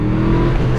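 A 2021 Yamaha YZF R125 motorcycle engine screams at full throttle, a loud, steady, close tonal roar that holds for under a second.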